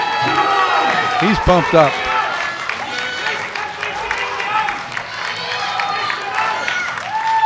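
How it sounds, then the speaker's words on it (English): A crowd at a powerlifting championship cheers and applauds loudly and continuously, with commentators talking over the noise. "The crowd's getting behind him. They want to see a big lift."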